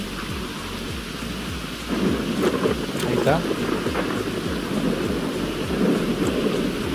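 Thunderstorm in the video game GTA V: heavy rain hisses steadily while rolling thunder rumbles in and swells about two seconds in, loud and close, with a brief spoken remark over it.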